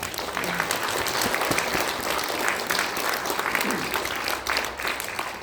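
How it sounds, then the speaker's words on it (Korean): An audience at a political party's general election launch ceremony in Korea claps in sustained, even applause that fills the hall from start to finish. "여러분들 박수 부탁드립니다."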